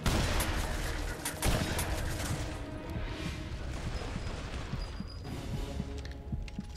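Gunfire in The Saboteur, a World War II era action game: rapid, dense shots and crashing impacts run continuously, loud and busy throughout, with no voices.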